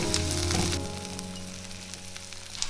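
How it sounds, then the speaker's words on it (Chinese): Garlic and scallions stir-frying in oil in a clay pot after shrimp give a steady, moderately quiet sizzle, slightly louder at first, with a faint hum underneath and no talking. "接着把蒜跟葱放进来炒。"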